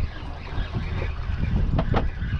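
Wind buffeting a fishing boat out at sea, a steady gusty roar against the microphone, with a couple of brief knocks near the end.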